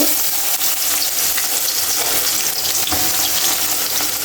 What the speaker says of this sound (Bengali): কড়াই গরম হয়ে গেছে, পেঁয়াজ দিয়ে দিব,